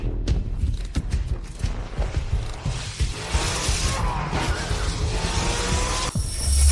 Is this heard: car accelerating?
yes